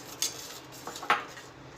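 A spoon stirs grated coconut mixture in a pan over a low flame, with a few light metallic clinks and scrapes against the pan over a quiet background.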